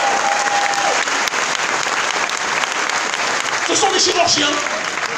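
A conference audience breaks into steady applause, a continuous crowd of clapping hands at moderate loudness, with a voice speaking briefly over it.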